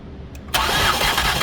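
A 2008 Ford Escape with a no-start fault cranks with its spark plugs removed, a loud, close starter whir that bursts in abruptly after a brief quiet moment and continues steadily.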